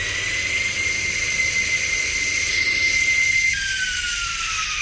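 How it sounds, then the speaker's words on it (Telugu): A drone hovers close by with a loud, steady high-pitched whine and whirr that holds throughout, its pitch dipping slightly partway through. "మన డ్రోన్ అయితే వచ్చేసింది గైస్."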